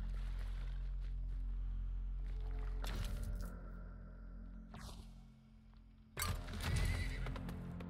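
A horse whinnies in the video game Weird West, a sharp neigh amid clip-clopping hooves and game ambience, with a second burst of hoof and movement noise near the end.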